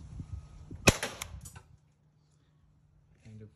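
A single sharp, snappy report from an Umarex HDR50 air pistol fired over a chronograph, close and clear, with brief mechanical clicks after it and a short voice near the end.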